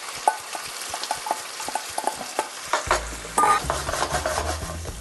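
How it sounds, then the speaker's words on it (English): A utensil scrapes and taps in a pan of oil, garlic and salt, then chopped onions drop in and a steady close sizzle of frying takes over, with continued stirring clicks. "We're going to put in the onions."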